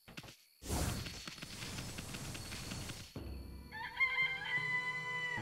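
A rooster crows in the video game Okami. A warbling, wavering call rises near the end, after a loud rushing whoosh and softer game sounds.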